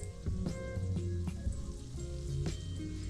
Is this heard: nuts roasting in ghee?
yes